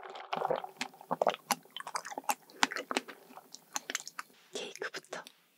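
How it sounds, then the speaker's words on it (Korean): Close, soft mouth sounds of eating and sipping a strawberry latte, with wet chewing, small bites and crisp clicks coming in quick, irregular bursts and brief gaps, recorded intimately in a mukbang ASMR setting. "먼저 이 딸기 라떼부터 먹어볼게요."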